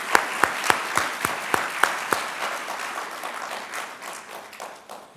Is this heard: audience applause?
yes